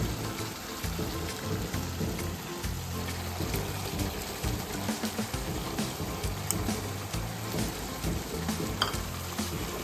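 Tomatoes, fenugreek leaves and chicken fry in a pan with a continuous dense sizzle, punctuated by faint scraping from stirring, steady and close throughout.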